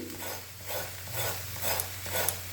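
A crispy moong dal snack cooks in a pan, giving a steady close sizzle with soft rhythmic scraping surges of stirring throughout.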